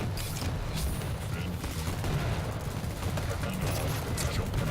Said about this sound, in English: 3 frags with a nail gun.